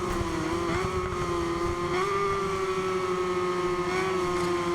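Racing motorcycle engines from Suzuki and Ducati bikes in the RIDE 5 video game, a loud steady high-revving drone with slight pitch shifts as the bikes hold speed together, continuous throughout with no talking.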